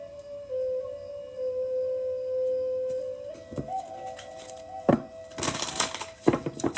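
Tarot cards being shuffled, a soft papery riffling and tapping that builds into a few brisk bursts against a quiet room with a faint steady tone.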